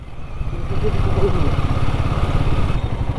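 Royal Enfield Himalayan 411 motorcycle engine running close by on a mountain road trip, a steady low-pitched thumping single-cylinder throb that holds constant for a few seconds.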